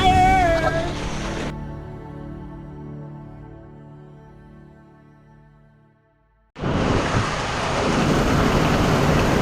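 A fading, ringing tone dies into near silence, then a dense hiss of heavy rain cuts in abruptly and continues steadily.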